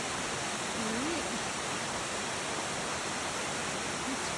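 A waterfall along a hiking trail gives a constant, loud, broadband rush of falling water that sounds close and fills the whole stretch, with a brief voice faintly heard under it.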